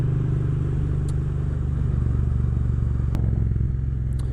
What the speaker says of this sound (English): you're still going to get a decent amount of noise from the bike